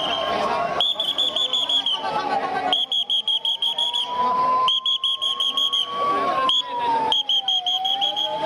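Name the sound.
whistle blown during a mock drill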